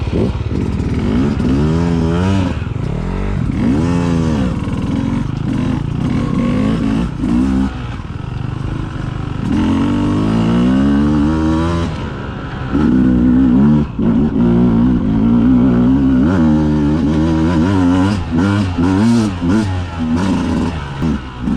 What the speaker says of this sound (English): I pull in the clutch and rev the bike out, and I can wheelie up that stuff without stopping